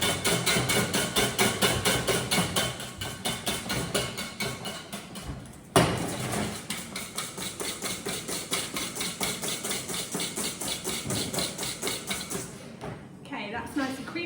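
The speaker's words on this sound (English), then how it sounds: "I'm just using my hand as I'm whisking to stabilise the bowl" Egg whites and sugar for Swiss meringue are hand-whisked in a bowl, a steady, rapid metallic rhythm of whisk strokes scraping and clicking against the bowl, loud and close for most of the time with a brief pause.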